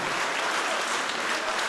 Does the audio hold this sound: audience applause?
yes